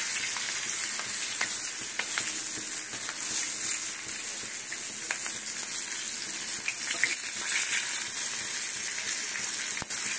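Pakoras fry in hot oil with a dense, continuous sizzle and crackle, steady and close throughout, with scattered sharper pops and no voices.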